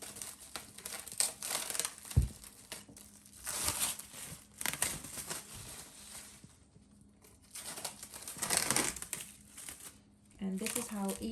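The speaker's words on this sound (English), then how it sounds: "I'm gonna take my plastic wrap off." Plastic wrap peeled off an oiled bowl of risen pizza dough, a crinkly rustle that rises and falls in several bursts with a couple of soft thumps, close by with no talk.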